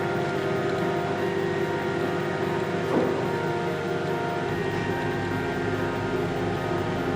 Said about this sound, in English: Our fish is inside the microwave.